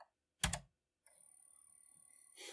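Computer keyboard keys pressed on a 1980s home computer such as a C64, Apple II or IBM PC compatible: one sharp clack, then a faint steady electronic whine and a second brief burst of clicks.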